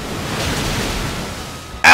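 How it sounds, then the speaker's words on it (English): Muddy Water attack in Pokémon Shield, a steady rushing wash like surging surf and wind filling the moment, ending in a sudden loud splashing impact. "Didn't realize that had muddy water."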